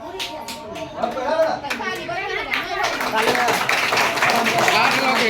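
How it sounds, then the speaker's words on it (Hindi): Clapping from a crowd at a temple wedding. A few scattered claps swell into sustained applause under chatter and voices. "ताली बजाओ ताली बजाओ"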